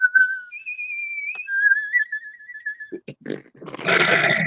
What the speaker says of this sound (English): Look, I'm not the slide whistle master.